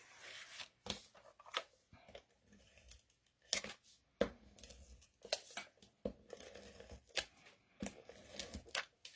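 Paper cut with scissors for a handmade card craft, a series of sharp snips and crisp slicing strokes at close range, irregular in rhythm and loud against a quiet background.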